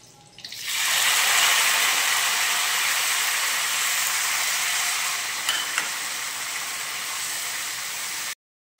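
Chopped onion dropped into a hot pan already holding cinnamon and bay leaves bursts into a loud, steady sizzle that holds evenly for several seconds, close up with no voices, then stops abruptly.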